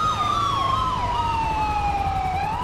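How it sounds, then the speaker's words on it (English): A police siren wails in the video game GTA 5 during a street patrol. A loud, continuous tone sweeps up and down over the rumble of a vehicle engine, and no one speaks. "People, hear the siren?"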